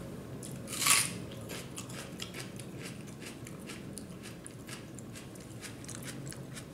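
A man bites into a whole raw onion, eaten like an apple: one sharp crunchy bite near the mic, followed by steady soft chewing and crunching throughout, with no talk.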